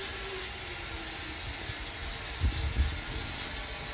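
Water pours steadily into a roasting pan for spare ribs, a continuous splashing gush with a slight surge near the end.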